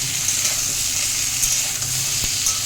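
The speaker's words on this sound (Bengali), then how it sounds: "এটা ভালো করে ভেজে নিয়ে এবার মশলা দেবো।" Raw banana pieces dusted with turmeric and salt fry in a pan, giving a steady close sizzle with a few light stirring scrapes, no talking.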